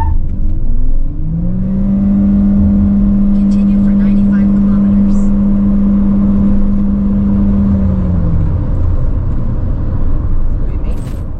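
A Chery compact SUV accelerating hard in an acceleration test, a loud, steady engine drone rising slightly in pitch and holding for several seconds before easing off, heard from inside the cabin with road rumble.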